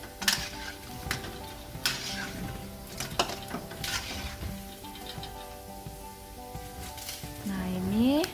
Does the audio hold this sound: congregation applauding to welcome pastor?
no